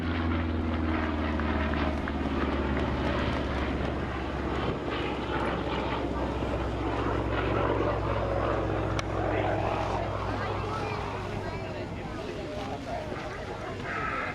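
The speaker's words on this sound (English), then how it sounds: "This is John Gowdy in the P-47 Thunderbolt, the almighty Jug" A P-47 Thunderbolt propeller fighter flies at the Southport Air Show, its engine giving a steady, heavy drone that fills the whole stretch. Announcements over the public address system play over the engine noise.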